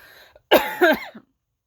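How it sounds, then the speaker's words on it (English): A single close, harsh cough in two quick bursts, with near silence before and after. "Just adds on to why I still have a cough"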